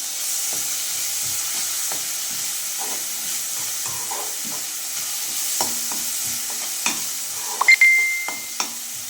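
Tomato frying with ginger garlic paste in a pan, a steady close sizzle and hiss with light stirring scrapes and occasional sharper pops toward the end, no talking.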